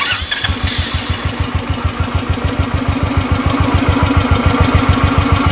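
A Royal Enfield Bullet Classic 350 engine catches after a short starter whirr and settles into a loud, close, steady thumping idle with evenly spaced beats.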